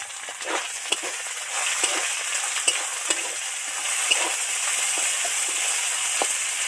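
Ginger and coriander leaves fry in hot oil in a pan, giving a steady close sizzle with frequent crackling pops and occasional spatula scrapes.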